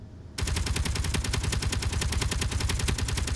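Rapid, dense barrage of explosions and gunfire-like blasts in the space sandbox game Space Engineers, starting abruptly and continuing loud and unbroken without voices.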